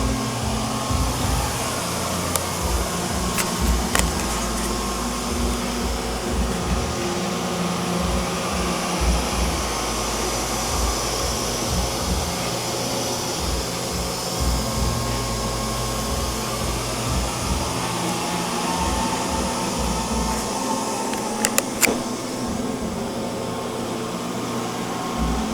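A Neato Botvac D75 robot vacuum runs its suction fans with a continuous loud whirring hum and low rumble that stays steady throughout, broken only by occasional faint clicks and bumps.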